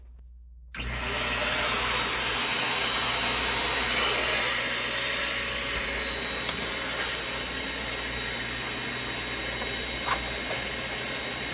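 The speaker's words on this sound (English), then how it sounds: "let's vacuum up." Vacuum cleaner switching on and running steadily up close, a loud continuous whine and rush of air while dust is cleaned out of a dirty original Xbox Crystal Edition console during restoration.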